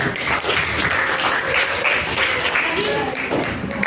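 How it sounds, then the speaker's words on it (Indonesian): Participants in an Indonesian teacher-training session clapping for a presenting group, a steady round of applause with voices talking and calling out over it. "Sekaligus tepuk tangan untuk mereka."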